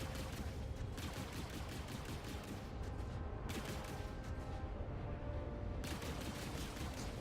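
Spaceship guns fire continuously while strafing in the Star Citizen game, a loud, dense barrage of rapid shots with short gaps, steady throughout.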